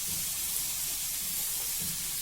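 Carrot, capsicum and cabbage fry in hot oil for a spring roll filling, giving a steady, soft sizzle and hiss with no break.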